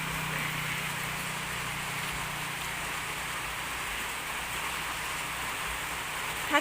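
Steady rain falls over an outdoor spot where an elephant is kept, a constant even hiss of drops with no pauses and no voices.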